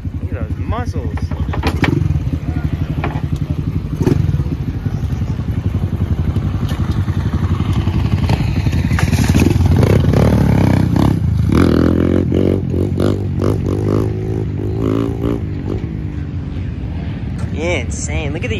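Yamaha dirt bikes rev loudly and continuously at a Glen Helen motocross track, the engines droning and rising in pitch close by, with people talking over the roar.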